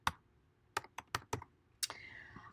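Typing on a computer keyboard while entering a website news post, with a handful of distinct, crisp key clicks, a few in quick succession, close and quiet.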